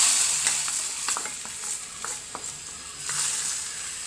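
Tempering sizzles in a pan for a prawn and raw mango curry, a bright hissing crackle with scattered light taps and stirring clicks, moderately close and without speech.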